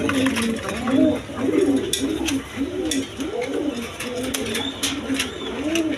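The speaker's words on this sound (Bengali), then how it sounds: "একদম কোয়ালিটি সম্পন্ন কবুতর" Domestic pigeons coo close by in repeated, rolling throaty phrases, one after another in an uneven rhythm over a low background hum.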